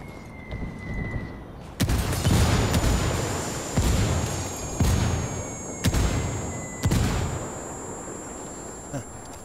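Grenade blasts in the Ghost War shooter game: a series of loud, booming explosions and gunfire bursts follow one another at roughly two-second intervals, each one sharp at its onset before it rumbles away.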